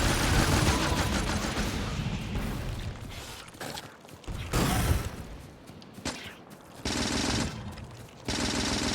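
Gunfire from the gun in the game Factorio comes in several bursts of rapid automatic shots, loud and dense, separated by brief quieter gaps.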